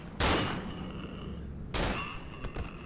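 Gunfire in a shooting video game comes as two loud, abrupt bursts about a second and a half apart, each fading into a short rumbling tail, with no talk over them.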